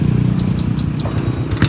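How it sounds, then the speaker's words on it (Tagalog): A motorcycle engine runs after its wiring was repaired with a new relay, a loud close rumble with low pulsing throb and a slight clatter near the end. "umandar na yung motor nila bossing"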